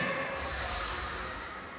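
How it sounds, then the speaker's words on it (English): A porcupine's dry, continuous rattling hiss of shaking quills, steady and fairly close, fading slightly toward the end with no voices, at a night safari in Singapore. "That is the sound of rattling quills,"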